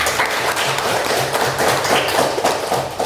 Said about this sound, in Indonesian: Tepuk tangan untuk kehadiran kita pada hari ini.